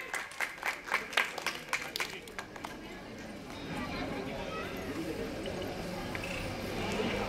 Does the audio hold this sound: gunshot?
no